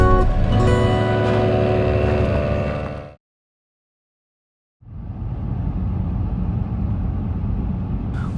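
A car drives along a mountain highway with a steady low road rumble. It cuts to silence for a moment, then the same drive noise returns.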